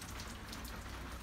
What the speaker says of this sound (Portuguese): Desculpem o barulho, que tá chovendo.